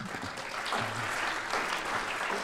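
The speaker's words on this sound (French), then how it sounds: "On l'applaudit." Brief burst of audience applause at a concert, a close, steady patter of clapping hands lasting a couple of seconds.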